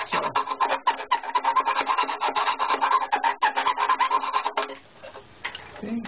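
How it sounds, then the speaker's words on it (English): A sanding stick, a wooden dowel with sandpaper glued on, rubs rapidly against the wood at a violin's sound hole, giving quick rhythmic rasping strokes close up that stop near the end. "So I'm going to use a sanding stick, just a wood dowel with some cut sandpaper glued on."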